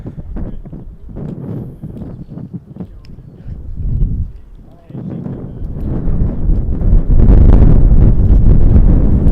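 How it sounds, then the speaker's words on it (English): Strong wind, about 25 knots, buffets the microphone at Montréal-Trudeau International Airport in loud, rumbling gusts that build and grow louder toward the end. "It is very, very windy, as you can hear, I'm sure."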